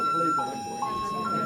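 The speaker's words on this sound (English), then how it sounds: "That sounded like a fire alarm." A fire alarm sounds at Stone Mountain park in Georgia, a steady electronic tone shifting pitch in steps, heard at moderate distance under crowd noise and talk.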